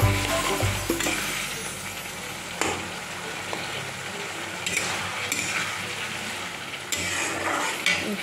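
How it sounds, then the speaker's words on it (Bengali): Koi fish masala with a splash of water cooking down in a pan, a soft continuous sizzle with intermittent spatula scrapes and clinks against the pan, close and moderately quiet. "বাটিটা দিয়ে একটু জল দিয়ে দিলাম, ভালো করে আর একটু কষিয়ে নেব।"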